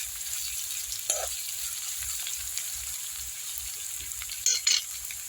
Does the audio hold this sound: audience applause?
no